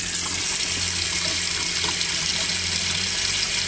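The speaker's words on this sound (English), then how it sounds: "run the water from the outdoor tank up to the pump" Water runs steadily from a tap inside a Roadtrek camper van, a constant loud hiss and splash with a faint low pump hum beneath, continuous throughout.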